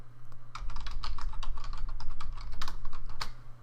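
Fingers tap rapidly on a computer keyboard while entering JavaScript code, making quick irregular clicks at close range over a low steady electrical hum.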